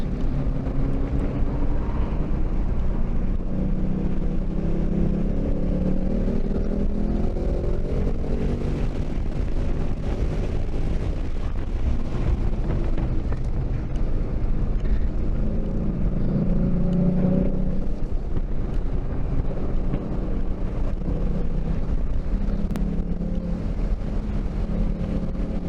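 A 2019 Mustang GT track car lapping a circuit, its engine a loud steady drone that rises and falls through gear changes, with heavy wind buffeting over the whole run.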